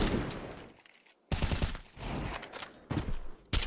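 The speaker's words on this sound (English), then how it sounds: "Cracking headshots from Gamezilla" Gunshots in an esports tactical shooter match, a few sharp bursts and single shots separated by brief quieter gaps, moderately loud.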